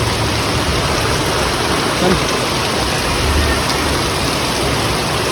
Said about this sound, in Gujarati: વરસાદ હજુથી બંધ થયો નહીં, ચાલુ જ છે અને વધે જાય છે